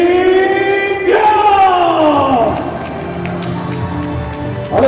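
A live audience at a Dragon FC MMA event cheers and applauds after the fight, a loud, dense roar with voices rising and falling over sustained clapping.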